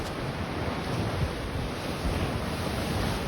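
Large surf of six-foot-plus waves on a North Shore beach roars continuously and loudly, with wind buffeting the microphone throughout.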